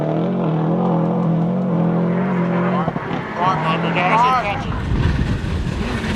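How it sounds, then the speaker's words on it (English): Rally car engine note with strong harmonic drone that wavers and dips as the driver left-foot brakes on the pedals, loud and close, shifting to rising revs midway. "He's dancing on the pedals, left foot braking to steady the car"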